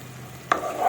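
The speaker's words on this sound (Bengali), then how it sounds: "এবার ক্যাপসিকামটা দিয়ে ভালোভাবে কিন্তু একটু নাড়াতে হবে" Capsicum goes into a pan of okra and potato curry and gets stirred, a quiet background fry broken by one sharp scrape of the spatula followed by a soft, swelling sizzle.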